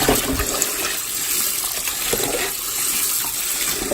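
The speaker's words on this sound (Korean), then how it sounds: "그래서 얼른 찬물에 한번 씻을게요." Cold tap water runs steadily, rinsing freshly boiled food in a kitchen sink, with a continuous close splashing gush throughout and no talk.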